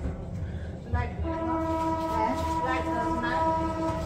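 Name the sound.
train passing by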